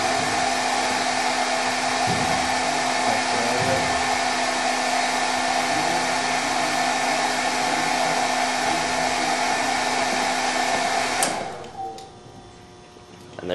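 A hair-dryer-like appliance roaring loud and steady on an overloaded circuit until the breaker trips, the whir cutting off abruptly and winding down near the end, with faint ticking underneath.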